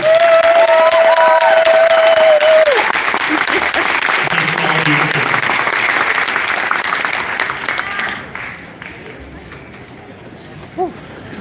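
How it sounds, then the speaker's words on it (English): Audience clapping for candidates at a federal election all-candidates debate in Vernon, loud at first over a sustained tone, then thinning and fading away into quieter room noise. "How about one more round of applause for all of our candidates?"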